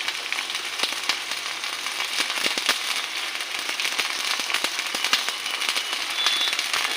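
Ginger and cumin paste with chili powder frying in mutton fat for ghugni, a dense continuous sizzle and crackle with scattered sharp pops, close and steady, no talking.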